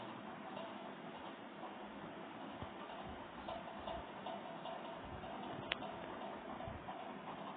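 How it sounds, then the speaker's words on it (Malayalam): A clock ticking in a horror video game, a faint, steady tick under a constant low background hum, with no talking. "fix the clock"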